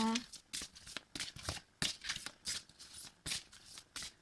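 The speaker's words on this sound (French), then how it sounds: "je vais prendre la carte pour le petit sapin" Tarot cards are handled and drawn by hand close up, giving a quick series of crisp papery flicks and shuffling snaps in an irregular rhythm.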